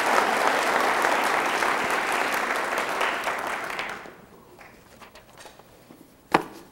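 Crowd applause for the Williams at a 2002 Cupertino State of the City Address: dense clapping for about four seconds that fades out, followed by quiet room shuffling and a single sharp knock.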